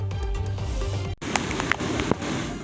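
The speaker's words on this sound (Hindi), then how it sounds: "पालघर जिले में बारिश कहर बनकर बरस रही है।" Heavy monsoon rain pouring in Palghar district, Maharashtra, during flooding: a steady broadband wash of rainfall, with a brief dropout midway and scattered sharper splashes and hits after it.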